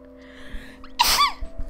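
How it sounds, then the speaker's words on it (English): A single sharp sneeze bursts out near the middle, loud and close, preceded by a brief intake of breath against a quiet room hum. "Had to sneeze."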